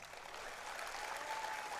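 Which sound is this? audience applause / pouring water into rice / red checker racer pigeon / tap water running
audience applause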